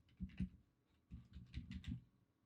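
Quick bursts of keys being typed on a computer keyboard, two short clusters of clicky taps separated by a brief pause, close and fairly quiet with no talk.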